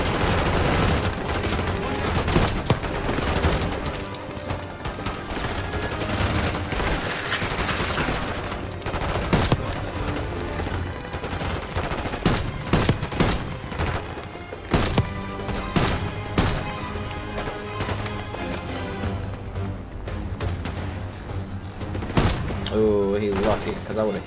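Gunfire in Call of Duty Black Ops 6, loud and almost nonstop: bursts of automatic fire, single cracks and booms stacked over a busy game soundscape, with voices mixed in.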